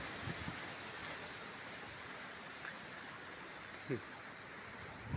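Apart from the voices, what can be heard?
wind and rain during a dusty thunderstorm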